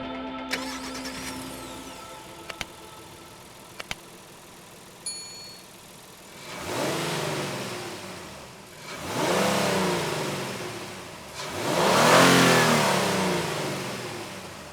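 The 3.5-liter 24-valve SOHC V6 of a 2026 Honda Ridgeline TrailSport revving in three rising, swelling pulls after a few soft chime dings, each rev building and falling back, close and fairly loud.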